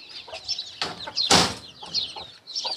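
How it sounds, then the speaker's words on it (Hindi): Aseel chicken chicks, newly hatched, chirp in a quick run of short, high peeps and cheeps close by, several overlapping calls with no talking. "9 चूजे इधर हैं"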